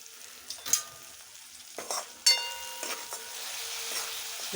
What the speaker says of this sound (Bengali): ভালো করে নাড়াচাড়া করে নিতে হবে যতক্ষণ না মশলা থেকে তেল ছেড়ে দিচ্ছে